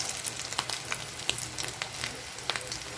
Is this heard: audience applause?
no